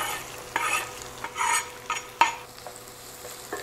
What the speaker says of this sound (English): We're going to saute these down for 4 to 5 minutes until lightly browned and they're nice and soft.